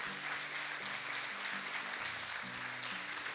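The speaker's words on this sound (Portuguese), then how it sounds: "Dá uma salva de palmas para os nossos atores aqui." Audience applause for the actors of a church skit about David and Goliath, a steady, moderately distant wash of clapping with a low music or hum bed running underneath.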